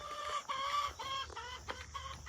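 Chickens clucking inside a small backyard coop, a steady run of close, overlapping clucks and murmurs with a few sharper calls, no voices.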